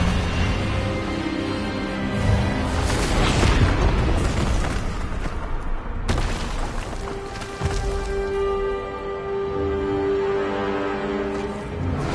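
A spell clash in Hogwarts Legacy rumbles and booms, with loud sustained magical blasts and a sharp burst near the middle, then a lingering resonant tone.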